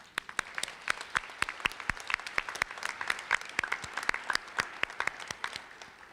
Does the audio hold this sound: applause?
yes